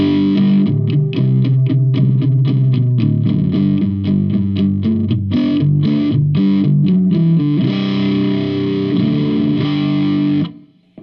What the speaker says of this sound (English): It's pushing the amp to that overdrive.